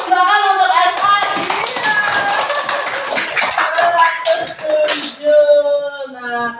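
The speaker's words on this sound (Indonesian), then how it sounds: "Mantap, tepuk tangan untuk As'ad" A classroom claps for a student who answered correctly: a burst of many hands clapping together, loud and close. Children's voices ring out over it and the sound tapers off near the end.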